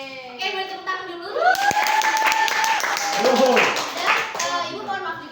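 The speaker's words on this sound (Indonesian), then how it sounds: "boleh tepuk tangan dulu" Students applaud in a classroom at a teacher's prompt, a burst of clapping rising under a sustained sung or spoken tone, with children's voices mixed through the clapping.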